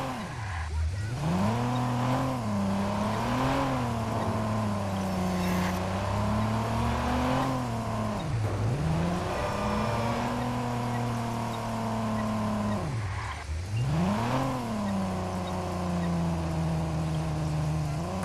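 A car driven in the video game Watch Dogs, its engine droning and revving up and down through repeated gear shifts, with tire noise underneath, steady and close for the whole stretch.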